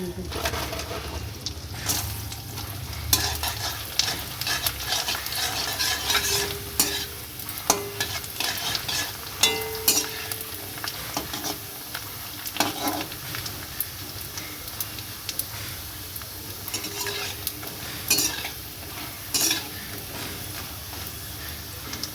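Papad sizzles loudly in a pan of hot oil in a village kitchen, a steady dense frying hiss broken by clattering stirs and scrapes, while someone talks intermittently and a pigeon coos faintly in the background.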